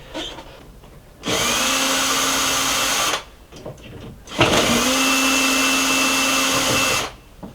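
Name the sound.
power drill removing temporary screws from window clamping ring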